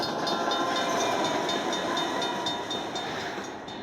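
A casino slot machine in Lake Tahoe plays a train sound effect, a steady loud rolling rumble with clattering rhythm that holds for a few seconds before easing slightly.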